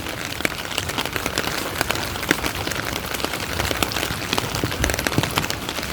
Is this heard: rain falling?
yes